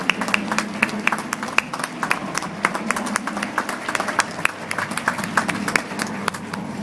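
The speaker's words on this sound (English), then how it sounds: "How about applause for the Crandall kids?" Moderate applause at a US Navy JAG change-of-command and retirement ceremony, for the Crandall kids, with distinct individual claps in an uneven rhythm, steady throughout.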